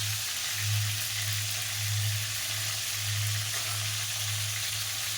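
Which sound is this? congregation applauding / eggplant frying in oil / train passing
eggplant frying in oil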